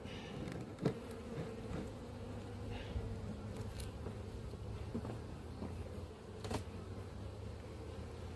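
Honey bees buzz steadily throughout at a late-season apiary while colonies are united, a low droning hum with occasional faint taps and rustles, fairly close and continuous.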